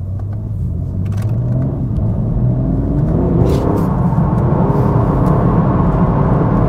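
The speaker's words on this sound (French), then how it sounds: "Vous refaites un passage analyseur de drift." A BMW M3 Competition G80 roars through a drift pass, its engine a loud, steady rumble that swells and holds as the car slides, close by and without talk.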